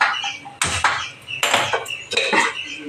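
A cooking pot of colocasia leaf (alu) curry set down on a gas stove in a home kitchen, giving a few sharp metallic clanks and scrapes spaced over a few seconds, close and fairly loud with no talk.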